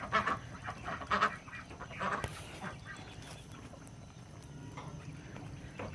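Geese honk from their pen at night, with several loud honks in the first two seconds before the farmyard settles into a quieter background hum.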